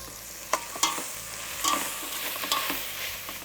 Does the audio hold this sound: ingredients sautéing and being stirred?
yes